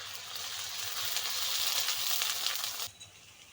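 Ginger garlic paste sizzles in hot oil in a pan after onions have browned, a steady close hiss for nearly three seconds that then drops off sharply.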